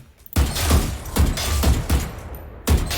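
Gunfire from the Skye agent in the video game Valorant: a rapid run of loud, punchy shots at a steady rhythm, a short pause, then one more shot near the end.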